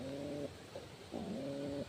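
Racing pigeons in a loft give two close, low cooing calls, each a steady warbling coo with a short pause between them.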